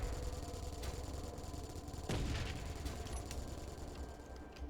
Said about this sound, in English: He's shooting stuff up, dude.